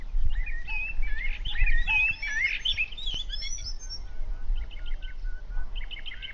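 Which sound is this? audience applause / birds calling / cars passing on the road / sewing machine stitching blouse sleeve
birds calling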